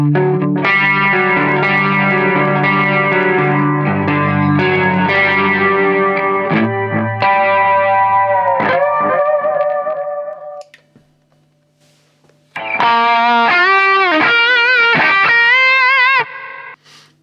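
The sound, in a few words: guitar chorus effect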